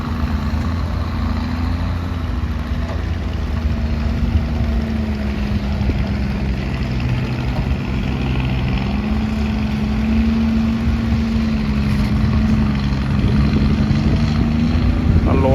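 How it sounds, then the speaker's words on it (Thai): A ten-wheel dump truck hauls out of a 15-metre-deep wastewater treatment pit being dug at a starch factory, its engine giving a continuous loud low drone with steady rumble and wind noise, and no break in the sound. "ดูสิบล้อเขาปีนบ่อหนะครับ"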